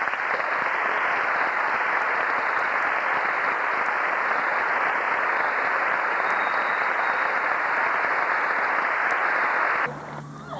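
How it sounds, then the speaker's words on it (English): A large audience gives a final round of applause for 186 men, a dense, steady roar of clapping that holds loud and even for about ten seconds before cutting off abruptly. "will you please join me in one last round of applause for the entire 186 men."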